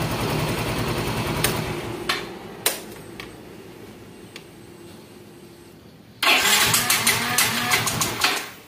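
A Yamaha Mio M3 scooter engine with a stubborn idle runs steadily nearby with a mid-pitched drone, broken by a few short blips of throttle, then revs up hard near the end, staying loud with repeated pulses.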